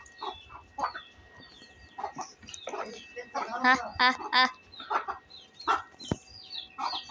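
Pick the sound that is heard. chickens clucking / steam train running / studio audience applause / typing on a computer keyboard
chickens clucking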